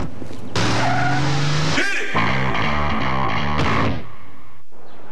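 A Dodge Magnum's Hemi engine roars loudly and revs, tires squealing as the car accelerates, then the sound drops away abruptly.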